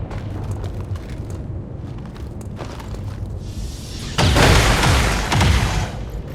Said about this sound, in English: There's heavy fire in this zone.